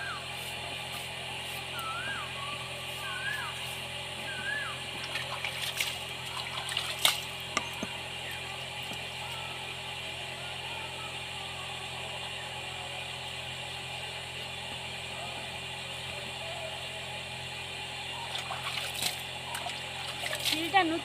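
Water splashing and running steadily over a new staircase as it is washed down, a continuous, moderately close wash with a few brief louder spatters.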